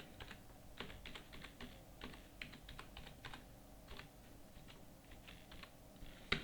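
Typing on a computer keyboard during data entry in accounting software: a steady run of quiet, close key clicks in irregular bursts, with no voices.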